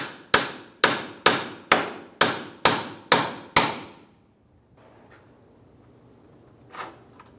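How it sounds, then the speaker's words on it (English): Eight sharp, evenly spaced hammer blows ring out up close as a bolt is tapped back through the rear wheel hub of a 2003-2011 Honda Element, followed by near silence and one faint knock. "try and tap back our bolt that runs right through here"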